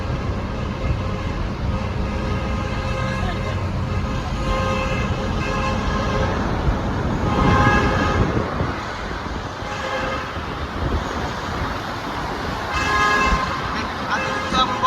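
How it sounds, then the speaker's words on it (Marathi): Vehicle horns honk repeatedly amid busy road traffic, with engines droning and several toots overlapping from different directions. "चारी साईडला हॉर्नचा आवाज दिसतोय गाड्यांच्या"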